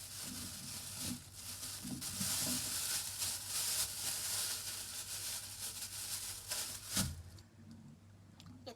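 New yellow potatoes with cumin and green chillies frying in a pan, a soft steady sizzle with scraping stirs and occasional clatter of the spoon.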